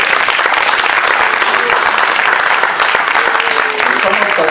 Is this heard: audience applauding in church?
yes